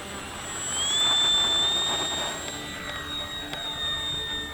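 An RC Hawker Hurricane model airplane's electric motor whines at takeoff, a high rising tone that swells then holds and wavers slightly as the plane climbs, loud and close with no talk.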